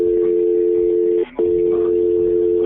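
Two long electronic ring tones on a recorded phone call, a steady buzzing pair split by a brief gap, loud and close with faint background noise.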